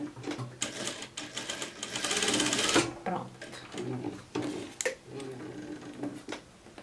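A sewing machine stitches fabric to secure the edge of a neckline, running in a short burst of rapid whirring with quieter clicks and handling noises around it.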